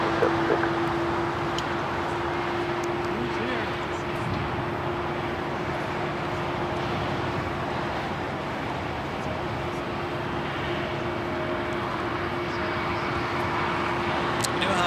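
A brand-new United Airbus A321neo taxiing toward a south-side takeoff at LAX, a continuous jet engine hum with a steady tonal whine, moderately loud and unbroken.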